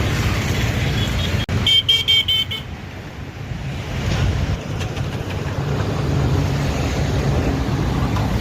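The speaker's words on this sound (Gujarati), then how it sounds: "મોટા વરાછા વાહનો પણ ખૂબ અવર જવર કરી રહ્યા છે ભાઈ" Traffic flows steadily across the Mota Varachha bridge with a constant road roar, and a vehicle horn honks in a short burst of beeps near the start, fairly loud and close.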